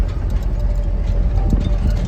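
A pickup truck sent down into a river to haul subabul wood idles with a deep, rough rumble, steady and fairly loud, with some outdoor noise around it and no speech.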